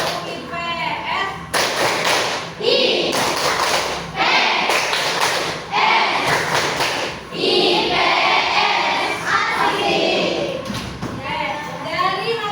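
A classroom of students performing the rhythmic Tepuk IPS clapping chant, with sharp group claps in bursts under loud chanting voices, close and energetic throughout.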